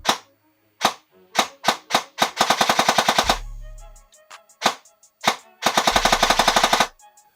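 Airsoft AEG with a Real Deal Golden Boy Gen 2 motor firing close up: sharp single shots mixed with two rapid full-auto bursts, each ending in a short motor spin-down hum.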